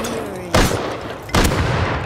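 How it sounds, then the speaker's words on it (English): Two sharp explosive bangs in the survival video game Rust, a grenade blast among them, each a loud sudden burst about a second apart over steady in-game background noise. "I just killed a guy with a nade on the lid."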